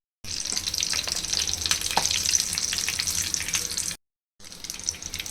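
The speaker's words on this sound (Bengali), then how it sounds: "তেল গরম হয়ে এলেই এখন একে একে চপগুলো দিয়ে ভেজে নিব।" Egg chops frying in hot soybean oil, a steady close crackling sizzle that runs for about four seconds, stops for a moment, then starts again.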